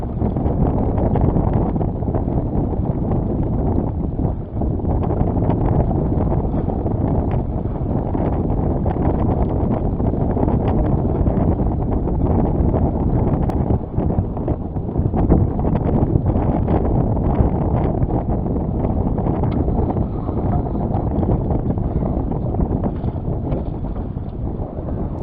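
Strong wind roars steadily while sailing a small boat on a lake, a dense, continuous blustery rush loud against the microphone for the whole stretch, with faint water and rigging noise beneath.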